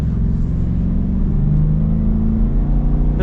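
A 2023 Ford Super Duty pickup with the 6.8L V8 accelerates in a steady, loud, rising cabin drone with a low engine rumble and harmonic hum climbing in pitch.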